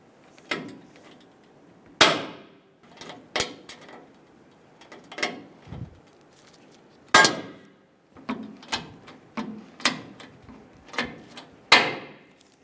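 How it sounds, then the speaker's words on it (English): Rivets being set to fasten a replacement bumper bracket to the impact bar of a 2005-2015 Toyota Tacoma: a close, irregular series of sharp metallic clacks and knocks with short quiet gaps, no talking. "We're going to use a rivet to secure it to the impact bar."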